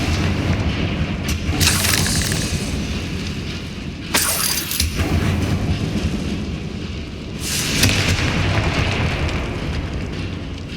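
Confringo blasting spells in the Hogwarts Legacy video game explode in three rumbling, crackling bursts over a low, continuous ambient drone.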